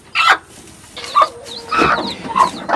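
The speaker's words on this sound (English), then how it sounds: "Yeah, these are our chickens." Local hens with their eggs cluck in short, irregular bursts, several calls close and fairly loud, with no talking.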